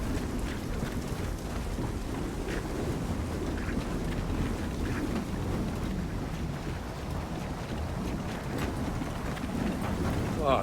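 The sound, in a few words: wind flare storm in Gears of War 4 video game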